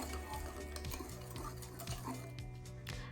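A spoon stirs sugar and sunflower oil together in a bowl for an eggless chocolate cake, with repeated scraping strokes in a steady rhythm.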